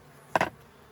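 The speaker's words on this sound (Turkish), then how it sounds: "Evet arılar bir çekilin benden uzaklaşın" Honeybees buzzing around a hive during autumn hive care, a single short, close buzz as a bee passes near, over quiet background.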